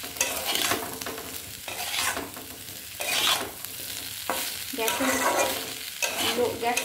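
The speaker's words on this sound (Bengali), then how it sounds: "এবার ভালো করে এটাকে মিশিয়ে নেব আর একটু কিছুক্ষণ কষবো" Banana stem curry with spices is stirred in a pan, making repeated scraping sweeps of the spatula in uneven bursts over a continuous frying sizzle, close up and with no voices.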